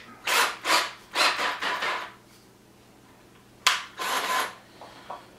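Several short bursts of a drill with a screwdriver bit grinding a screw into a DIY GoPro flex mount clamp, in two groups separated by a quiet pause, close and fairly loud.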